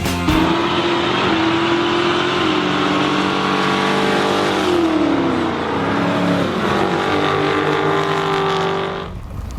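A 2015 Dodge Charger SRT Hellcat with a supercharged 6.2-liter V8 revs loudly and close, its engine note climbing and falling in sustained pulls before cutting off abruptly at the end.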